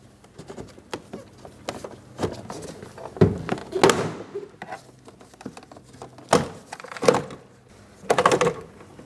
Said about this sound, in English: I'm using my plastic trim tool.